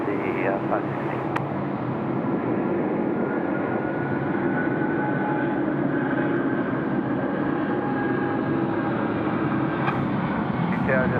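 A FedEx cargo plane departs Sydney Airport at night, its jet engines giving a continuous loud roar that stays steady throughout, heard from nearby with no voices.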